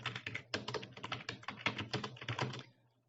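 Text is typed into Photoshop on a computer keyboard, a close burst of brisk key clicks over a low hum that stops abruptly, leaving a moment of quiet.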